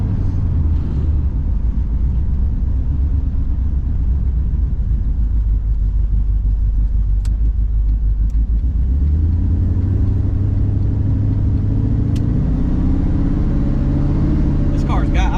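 A steady low engine rumble from inside a moving Cutlass on 24-inch wheels, continuous throughout with a shift in pitch midway.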